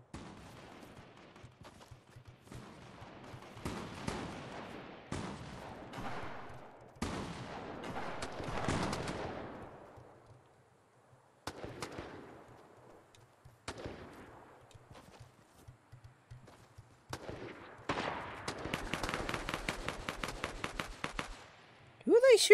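Fortnite battle royale gunfire crackles in scattered single shots and short bursts, building into a rapid automatic volley near the end, with players talking over it.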